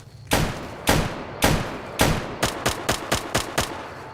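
Gunfire in the video game Fallout New Vegas: four loud, evenly spaced single shots, then a quicker run of six or seven shots, each with a short echoing tail, close and unaccompanied by talk.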